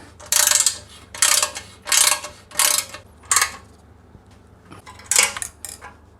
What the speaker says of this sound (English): And finally the 2 front bolts. Go ahead and torque these up.